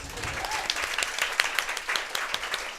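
Audience applause breaks out at the end of a podcast segment, a steady stretch of many hands clapping in a small crowd, moderately loud and continuous for a few seconds with no talk over it.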